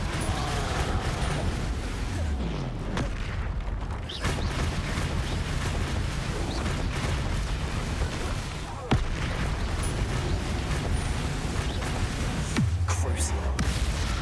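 Spell explosions from Bombarda and Confringo in Hogwarts Legacy boom repeatedly amid chaotic combat noise, with heavy blasts and crackling impacts under a player's voice.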